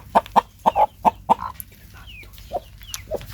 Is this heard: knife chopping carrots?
no